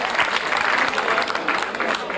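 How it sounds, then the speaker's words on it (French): A crowd at the Auray–Vannes road race claps steadily and densely throughout, with a voice audible over the applause. "Dominique Chevelier, je vous demande d'applaudir bien fort"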